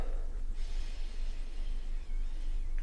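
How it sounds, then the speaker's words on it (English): A person sniffs a poured glass of St Austell Brewery Proper Black IPA up close, with a few short snorting inhales and breaths and no talking. "Let's have a sniff."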